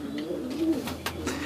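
An Andhra or Fulsira breed pigeon, restless while held in the hand, gives a low soft coo up close. Faint rustling and background hum sit underneath, with no talk.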